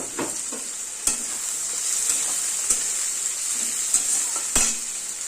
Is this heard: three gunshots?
no